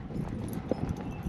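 Horse hooves clip-clopping at a trot on a morning ride, a quick, uneven run of soft thuds heard close and fairly quiet against faint background noise.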